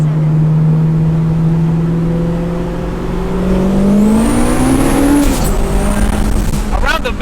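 A four-door AWD K-series turbo Integra accelerating hard through a bend on a track, its engine note climbing loud and close from inside the cabin with tire noise, while voices talk over it.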